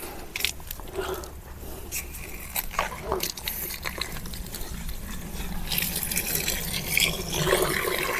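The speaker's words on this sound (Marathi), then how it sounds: "आपण एकदा ना पाणी भरून घेऊ, पंपाचं भरू आणि औषधामध्ये मिक्स करून घेऊ." Water pours steadily into the tank of a crop spray pump on a tomato farm, a continuous rushing fill with some voices nearby.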